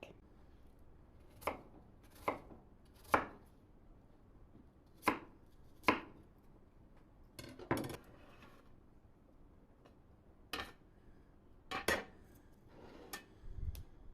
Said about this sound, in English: I'm going to chop all these up real quick